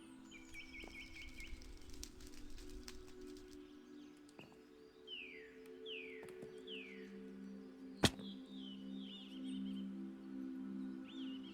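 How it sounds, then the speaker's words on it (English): Birds chirp in a Minecraft modpack game world, giving a few quick descending chirps and trills over a steady low ambient hum, with one sharp click partway through; the sounds are faint and fairly distant. "The birds are chirping."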